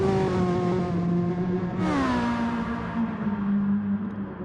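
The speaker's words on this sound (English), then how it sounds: "Definitely harder on that gas, revving the car up higher." Race car engine in a racing video game revving hard and loud from start to finish, its pitch steady and then climbing sharply midway before settling into a continuous higher drone.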